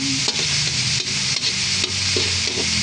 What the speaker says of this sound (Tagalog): Gisa-gisa muna natin, tapos tatakpan po natin yan para maluto ang ating giniling.